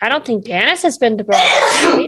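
A single sneeze bursts out right after someone speaks at a tabletop Dungeons & Dragons session, loud and close, with a sharp breathy blast lasting nearly a second.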